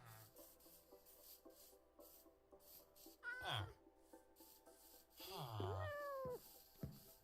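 Cats meowing inside Minecraft: two drawn-out, wavering meows rise and fall, the first around the middle and a longer one near the end, over a low steady game ambience with faint rustling.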